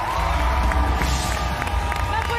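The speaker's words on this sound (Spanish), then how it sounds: "Más fuertes aplausos entonces para Ana Gabriel" A TV talent show studio audience cheers and claps continuously at close range, a dense roar with shouts over it and a presenter's voice partly audible beneath.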